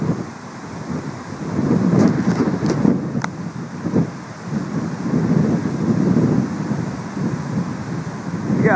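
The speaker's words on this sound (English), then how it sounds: "We got about 80 kilometer wind there." Strong gusting wind of about 80 kilometers per hour during a storm, roaring and buffeting the microphone in loud surges over a steady rumble, close and continuous with a few faint clanks.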